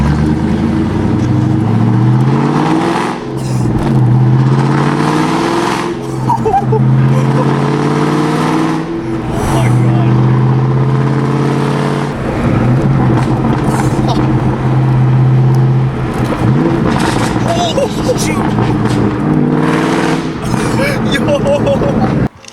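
A straight-piped 2003 Mustang Cobra exhaust revs hard and loud, deep rasping surges rising and falling repeatedly with some sharp pops, while people talk over the engine noise.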